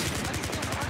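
Rapid automatic gunfire in a video game rattles in a quick, even burst of shots, loud and close, with a voice briefly audible alongside.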